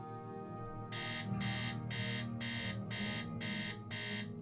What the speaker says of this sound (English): Thank you for that alarm clock.